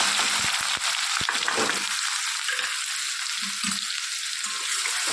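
Onion and garlic frying in peanut oil, a steady, dense sizzle throughout with a few scraping stir sounds, close and continuous.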